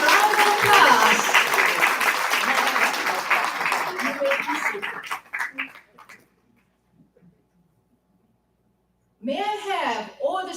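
A large audience at a corporate recognition ceremony applauds steadily for about five seconds, the clapping tapering off into near silence before a presenter speaks again at the end.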